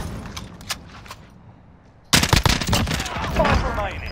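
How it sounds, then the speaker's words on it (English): Video game gunfire in a quarry endgame battle erupts abruptly halfway through, a loud burst of rapid automatic shots after a quieter stretch with scattered clicks and faint talk. "He's shooting me."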